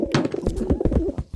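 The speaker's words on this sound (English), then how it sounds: "Pigeon." A pigeon in the I Am Cat video game gives a brief, soft cooing call amid light game sounds.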